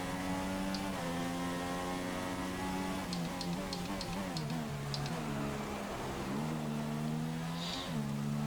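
A Formula One racing car briefly easing off under braking and then accelerating again, its high engine whine dipping and climbing in pitch over several gear-like shifts, loud and steady throughout with no talking.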